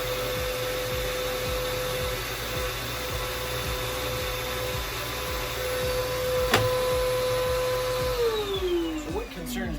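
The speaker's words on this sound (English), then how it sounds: "using that shop vac to really clean it out" A shop vac runs loudly and steadily up close while cleaning debris out of a Bissell PowerForce bagless vacuum. A high motor whine carries on for several seconds, then winds down in pitch near the end.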